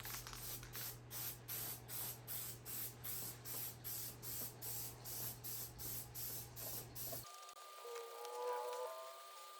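A spray gun lays a paint coat on a GMC Suburban body in about fifteen rhythmic, evenly spaced hissing bursts. It runs steady and close until it stops abruptly, leaving faint background tones.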